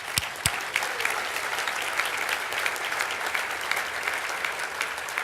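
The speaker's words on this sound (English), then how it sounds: "yeah, you can clap for Mark." Applause from a luncheon audience fills the room steadily, a dense crackle of many hands clapping at moderate distance with no talk.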